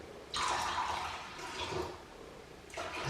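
Water pours into a container of emulsion paint in short bursts, a splashing, gurgling stream that starts, pauses, and starts again, fairly quiet and close.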